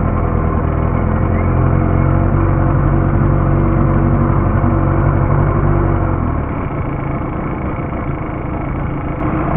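A model torpedo motor, roughly 1.85 metres long, runs loud and steady with a continuous whirring drone that eases in pitch and level partway through.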